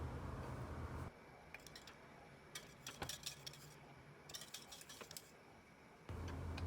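Spoon stirring hot raspberry sauce in a pan, with soft scattered clinks and scrapes of metal against the pan. The sounds are quiet, close and irregular, with no talk.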